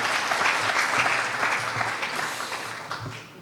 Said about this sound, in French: qu'on fasse des applaudissements pour mon professeur que je vois